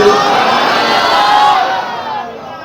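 A large audience at an Islamic religious sermon shouts slogans together, a loud massed roar of voices that swells and then fades away over a few seconds.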